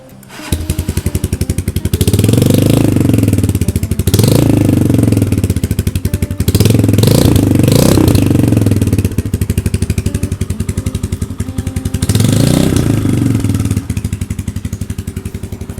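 A 2018 GPX Legend 200 cafe-racer motorcycle with its original engine idles steadily up close, then revs loudly in several sustained bursts, settling back to a rumbling idle between them.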